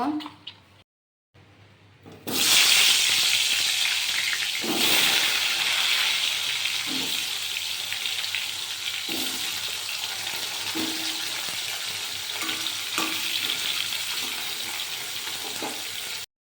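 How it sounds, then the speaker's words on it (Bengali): Salted, turmeric-coated potatoes frying in oil in a wok, a loud steady sizzle starting after a brief quiet opening and continuing with occasional stirring clicks. "লবণ আর হলুদটা দিয়ে আলুটা আমি মেখে নিলাম। এখন আমি কড়াইতে ভেজে নিব।"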